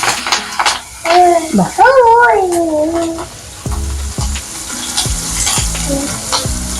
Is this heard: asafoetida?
yes